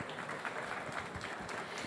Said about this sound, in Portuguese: Palmas para o Guido.